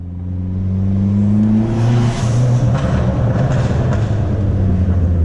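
A Dodge Neon SRT-4 engine revs up at about 30% throttle, its deep growl climbing in pitch and growing louder over a few seconds, close by.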